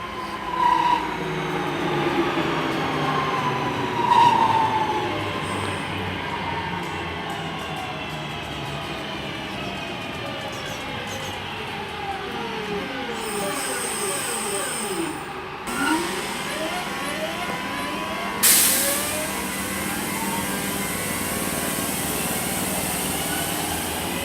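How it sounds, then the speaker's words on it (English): A Class 323 electric multiple unit pulls out of Selly Oak station, its traction motors whining in rising and falling tones over a steady rumble of wheels for a long continuous stretch, with a couple of sharp squeals along the way. "Departing out here is 323 212 with the service to Lichfield City from Redditch."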